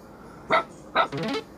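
A dog barks in a video game: two short, quiet barks and then a slightly longer yap, close by with no talking.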